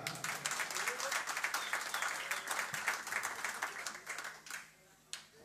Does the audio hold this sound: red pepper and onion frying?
no